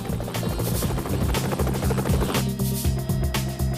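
A helicopter's rotor chops in a fast, steady rhythm, loud and close, with a constant engine whine running underneath throughout.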